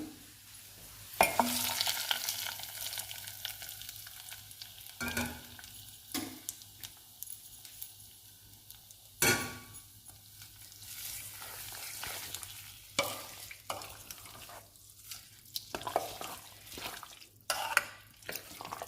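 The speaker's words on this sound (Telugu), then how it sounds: "తాలింపు గోంగూరలో వేస్తున్నాను" A hot garlic tempering is poured into gongura and lentil curry on a switched-off stove and stirred in. It gives a soft sizzle broken by scraping stirs and occasional clinks against the pot, close by, with no talking.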